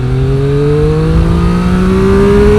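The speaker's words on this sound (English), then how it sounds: "let's go to 70, full throttles" A Triumph Street Triple RX motorcycle at full throttle in third gear, sport mode, pulling from 30 toward 70 mph: a loud, close engine note climbing steadily in pitch without a break, no voices.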